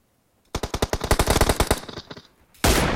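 A rapid burst of automatic gunfire in a video game rattles off in close, loud shots for about a second, fades, then a harsh noisy blast cuts in at the end.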